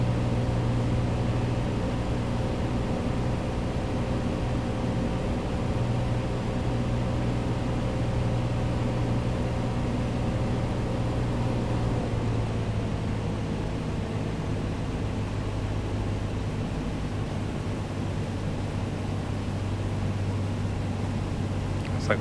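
A Cessna engine in the Prepar3D flight simulator hums steadily, its tone easing slightly lower as the throttle backs off on approach, a constant moderate drone with no talking.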